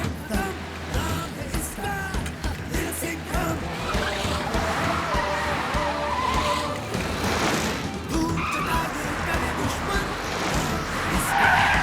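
A speeding cartoon car races along with loud screeching tire skids and engine whine, busy and continuous with scattered effects throughout.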